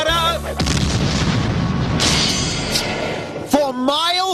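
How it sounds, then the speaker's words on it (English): A sonic boom sound effect lands as a heavy, rumbling blast that rolls on for a few seconds, with a voice speaking just before it and again right after. "That's why sonic booms go bada..."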